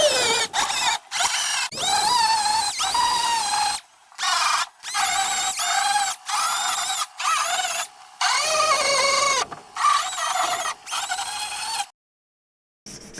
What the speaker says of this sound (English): Then I used a die grinder with a rasp bit to sand the holes so the body filler has some surface to